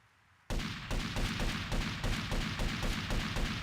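Rapid repeated pistol fire in Grand Theft Auto: Vice City begins abruptly after a brief quiet moment, a dense string of loud, evenly spaced shots continuing to the end.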